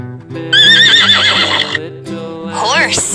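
A Fisher-Price Laugh & Learn toy plays a bright electronic horse whinny with a wavering, descending neigh, mixed over a cheerful children's song and a singing voice, loud and close.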